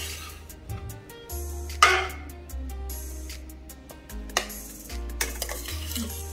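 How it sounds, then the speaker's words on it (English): Eggs with shrimp being stirred in a frying pan for fried rice, giving intermittent close scrapes and clinks of a utensil against the metal pan over a faint low hum, with no talking. "And now I'm gonna stir it and mix all the eggs."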